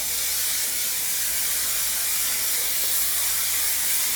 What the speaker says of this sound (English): Let me spray it with my aerogel.